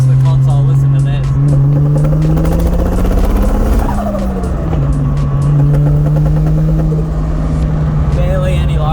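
A car cruising under barely any load on a parts run on the Gold Coast, its engine a steady low drone that rises and falls slightly, with people talking over it throughout.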